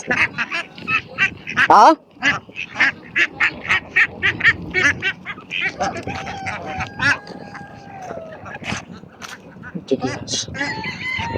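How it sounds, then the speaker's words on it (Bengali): Ducks and other fowl at a Friday poultry market in Kuwait give repeated loud honking quacks and squawks in irregular bursts, close by, with people talking around them. "এখানে হাঁস আছে"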